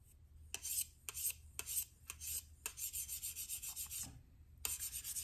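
Cold Steel Air Lite knife blade sharpened on a KME guided sharpener, rapid repeated rasping stone strokes in uneven rhythm, close but soft, with short pauses between swipes.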